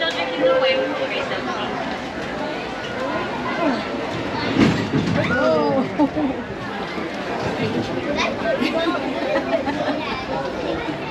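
The Disneyland Railroad train runs along its track in the park, with a steady rolling clatter and rumble under lively crowd chatter, plus a few brief squeals and clanks midway through.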